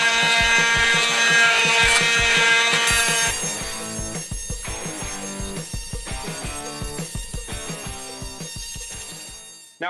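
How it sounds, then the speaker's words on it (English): A Hitachi oscillating multi-tool fitted with a scraper blade buzzes loudly, then settles into rapid rhythmic scraping bursts as it strips flaking paint from wood. "Now to really speed this process up, I put a scraper blade attachment on the Hitachi."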